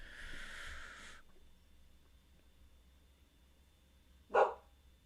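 A dog barks once, short and fairly close, outside a room, against a quiet background after a brief stretch of other sound at the start.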